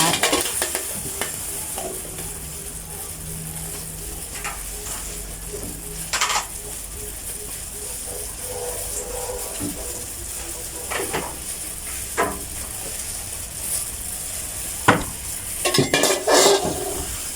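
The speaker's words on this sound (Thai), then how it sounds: "วันนี้เราก็จะมาทำผัด มะเขือนะคะ ผัดถึงมะเขือเจนะคะ" Eggplant stir-fried in a little oil for a vegetarian dish, a steady close sizzle with scraping spatula strokes and clinks against the pan, some louder scrapes near the end.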